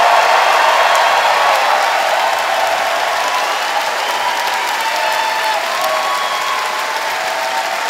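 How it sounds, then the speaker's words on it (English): A live comedy audience gives a loud, sustained round of applause with some cheering, a dense unbroken wash of clapping that holds steady for the whole stretch. "Trace Bellew and Frank Conniff, give them a round of applause"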